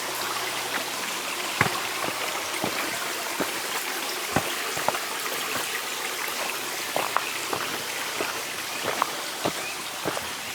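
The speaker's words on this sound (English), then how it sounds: "little small trickles of streams through the rock formations here" Small streams trickle through rock formations on a state park trail, a steady wash of running water broken by scattered sharp drips and splashes, with no voices.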